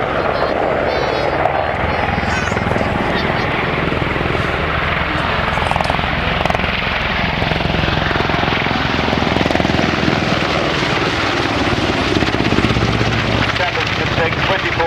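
Military aircraft roaring through a display at the RAF Cosford air show, with loud, continuous engine and rotor-like thrumming throughout while a commentator talks over it.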